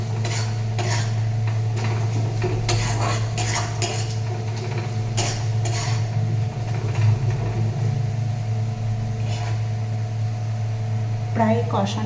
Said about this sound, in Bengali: প্রায় কষানো হয়ে গেছে, আর একটু কষিয়ে জল দিয়ে দেবো।